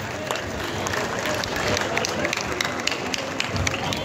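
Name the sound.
applause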